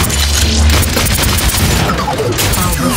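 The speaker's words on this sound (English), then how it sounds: "Now, activate your tactical visor and open fire." Soldier 76 opens fire in an Overwatch tutorial level: loud, dense rapid gunfire and booming impacts pour out continuously across three seconds, close and unbroken, with game effects layered over.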